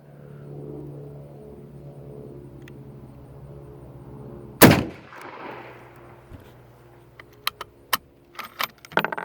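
A 6.5 Carcano deer rifle fires one sharp, loud shot outdoors that cracks and trails off briefly, followed by several small metallic clicks and clatters of handling.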